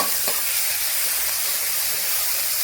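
Ground green chili frying in ghee with cumin, giving a steady, dense hiss and sizzle that stays even and close throughout, with no talk over it.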